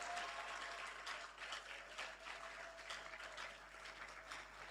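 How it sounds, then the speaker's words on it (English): Applause at an induction ceremony for newly qualified medical and dental practitioners, a faint, steady wash of clapping from a seated audience heard from some distance, continuing without break. "let not the applause die"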